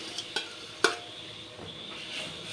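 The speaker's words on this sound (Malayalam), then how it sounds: "തേങ്ങ അരച്ചതൊക്കെ ഒഴിച്ചു കൊടുക്കാം." Ground coconut paste going into a drumstick and dal curry, with a few soft utensil knocks and quiet stirring against the pot over a faint low simmer, near and gentle.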